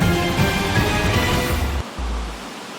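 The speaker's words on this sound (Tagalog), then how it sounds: "Walang humpay ang malakas na buhos ng ulan sa malaking bahagi ng Luzon." Heavy rain pours down without letup over Luzon, a dense continuous broadband hiss with low rumbling underneath, steady and loud before briefly dipping and resuming near the end.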